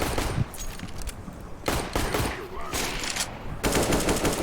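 Automatic gunfire rattles through a Warface match in dense, close bursts, nearly continuous across the stretch, with a player's voice talking faintly underneath.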